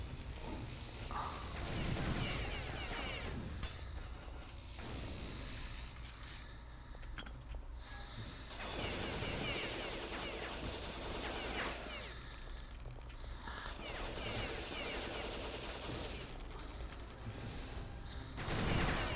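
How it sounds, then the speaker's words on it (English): Chaotic combat with a tank attacking in Half-Life Black Mesa: bursts of gunfire, heavy thuds and mechanical clatter in long sustained waves, with a voice speaking briefly amid the fight. "Oh shit, is that a tank? It's a tank."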